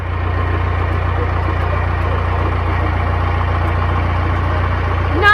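A boat's diesel engine with an engine problem idles on a trial run, a loud, steady low drone close by that holds evenly throughout, with a brief rising whine near the end.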